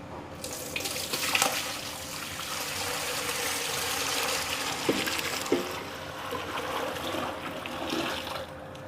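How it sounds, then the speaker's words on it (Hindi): Milk streams steadily into a large cooking pot for a batch of Muharram sharbat, a continuous splashing pour with a couple of brief clinks along the way. "सबसे पहले मैं दूध डाल देती हूँ।"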